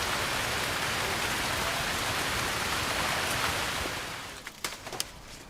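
Torrential rain pours down on an atoll vineyard during the grape harvest, a dense loud hiss that eases off after about four seconds into scattered drips and taps.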